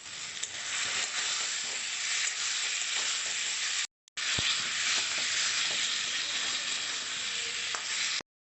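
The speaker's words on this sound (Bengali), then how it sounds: "আলুটাকে মশলার সঙ্গে একটু ভালো করে কষে নেবো।" Fried potato chunks stir-fried with spice masala in a pan for a katla fish kalia, a steady loud sizzle with scraping stirs throughout and a brief pause near the end.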